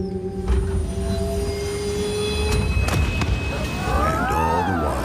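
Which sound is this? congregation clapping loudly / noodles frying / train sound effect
train sound effect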